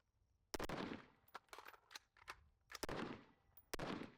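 Rifle fire at an outdoor range: a few sharp reports and rapid cracks with echoing tails, separated by quieter clatter from working the action, moderately distant and without talk.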